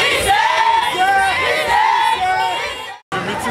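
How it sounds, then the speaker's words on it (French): A crowd of supporters at an election campaign walkabout in Parakou, loud and close, with many voices chanting and shouting together steadily before a brief drop-out, then the crowd noise returns. "On est en train de faire un bain de foule"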